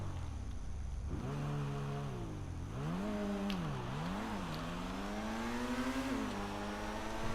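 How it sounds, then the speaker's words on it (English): Revving engine of an Itali GTB Custom performing a launch control start in GTA 5, a loud sustained engine note climbing and dipping through several rapid gear-like pitch swings before settling into steady acceleration, with no talking. "the launch control on this car is awesome."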